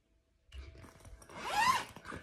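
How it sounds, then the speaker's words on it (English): Zipper on an altitude tent set up over a bed being pulled open, a quick rasping zip that builds in the middle and then trails off, close by with no talking. "open up the zippers and climb inside"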